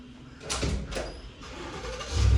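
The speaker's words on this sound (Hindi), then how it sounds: "पहले कर देते हैं गाड़ी स्टार्ट।" Car engine starting outdoors in Saudi Arabia: two quick cranking bursts followed by the engine catching into a low, steady idle, close and moderately loud.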